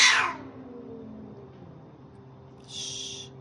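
A cat lets out a short meow, followed by a quiet stretch and a faint hissy noise near the end.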